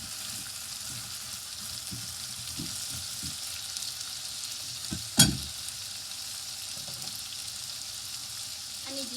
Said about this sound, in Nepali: आलुलाई यसरी ओइराइसकेपछि चाहिँ जिरासँग मजाले भुट्ने